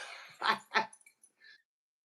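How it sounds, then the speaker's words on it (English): A pet dog named Fiona gives two short, close yelps, then a couple of faint, high whimpers in an otherwise quiet room. "Fiona the dog just chimed in"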